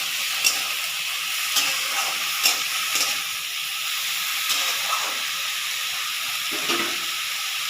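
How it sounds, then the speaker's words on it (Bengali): Snake gourd being gently stirred in a frying pan for a poppy-seed dish, giving a steady close hiss of frying with a few soft scraping strokes scattered through. "চিচিঙ্গাটা দেওয়া হয়ে গেলে হালকা করে প্রথম একটু নাড়িয়ে নেব।"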